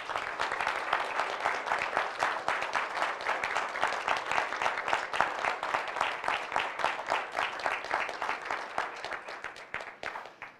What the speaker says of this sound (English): by applause, let's affirm this beautiful couple